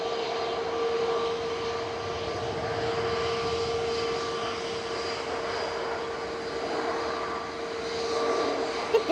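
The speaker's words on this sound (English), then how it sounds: "Virgin's GNVR just touching down from New York JFK with VS128. This is an A350 1000." A Virgin Airbus A350-1000 arriving from New York touches down at Manchester airport, giving a continuous loud jet roar with a steady engine tone that lasts throughout and ends with a couple of sharp knocks.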